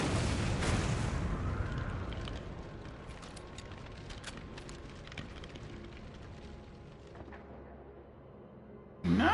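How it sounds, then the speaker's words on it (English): A large in-game explosion in a Resident Evil Raccoon City demo booms loudly at the start, then rumbles and crackles as debris settles, fading under game noise before a sudden loud burst at the very end. "That was a really large explosion radius there."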